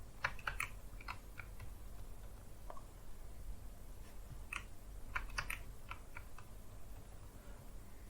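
Keys clatter on a computer keyboard as a GPG key passphrase is entered at the command line, in two short bursts of quick, irregular taps separated by a pause, close and fairly faint over a steady low hum.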